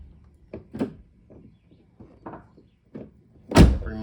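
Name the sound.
2006 Ford Focus ZX4 car door opening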